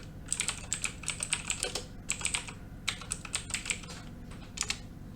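Crisp, close keyboard typing while entering switch configuration commands in Cisco Packet Tracer, quick runs of sharp key clicks broken by short pauses, fairly quiet with no talking.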